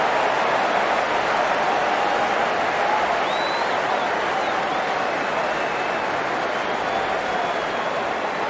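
A cricket crowd at a women's T20 match between India and Pakistan applauds a half-century with steady, loud clapping and general crowd noise that fills the whole stretch evenly.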